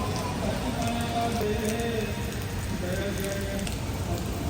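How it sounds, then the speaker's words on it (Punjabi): Heavy rain pours down steadily at a gurdwara during seva in a Punjab village, a dense, loud, unbroken hiss of drops hitting surfaces. "ਉਹ ਜੋਰ ਚ ਮੀਂਹ ਪੈਂਦਾ ਵਾ"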